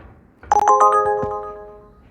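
The Uber Eats delivery app rings on a phone with a single short, bright electronic chime of several rising tones that rings out and fades, close and clear, with no talking.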